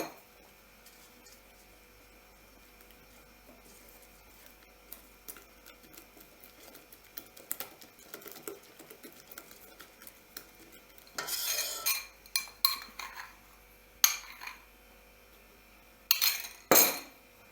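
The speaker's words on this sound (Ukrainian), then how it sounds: "трошку і гарно розмішувати, щоб не було комочків." A spoon stirring custard with flour in a bowl, quiet at first, then louder clinks and scrapes in bursts toward the end.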